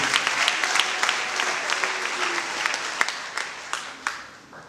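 Congregation at a church sermon applauding steadily, dense clapping with sharp individual claps standing out, close and fairly loud throughout.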